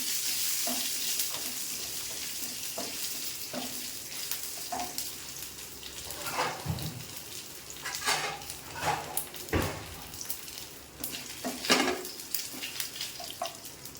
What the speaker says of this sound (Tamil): நான் தாளிச்சுக்கிறேன் கடுகு உளுந்தம்பருப்பு கொஞ்சம் போட்டுக்கிறேன்